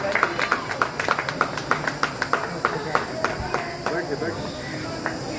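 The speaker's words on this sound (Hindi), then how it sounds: "तालियों से स्वागत होना चाहिए।" Scattered, uneven hand claps ring out at a members' gathering, welcoming life members and managing committee members with a sparse ripple of applause over a murmuring room.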